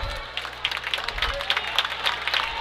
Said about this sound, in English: our guys are clapping